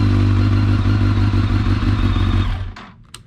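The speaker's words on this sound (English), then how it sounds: "And it does start." A 2004 Kawasaki ZX10R sport bike with high mileage runs loud and close right after starting, its engine droning and clattering steadily, then is cut off abruptly near the end, leaving a couple of faint clicks.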